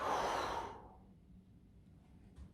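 A single exhale is heard during a wall push-up. The breath is close and breathy at first, then fades out within about a second, leaving quiet.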